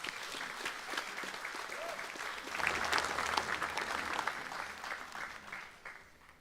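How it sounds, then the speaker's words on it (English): Steady applause from an audience at an anniversary sponsors night judging, dense clapping that swells midway and then tapers off toward the end. "Please give her a round of applause."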